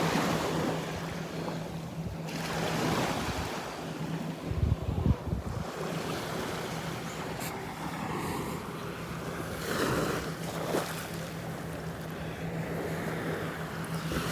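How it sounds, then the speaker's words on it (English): Ocean waves wash up on a Gulf beach at Delnor-Wiggins Pass in North Naples, Florida, a continuous surging hiss with swelling crests and steady wind buffeting the microphone. "As the water comes up, it's pulling them back down into the water here as the waves wash up on the beach."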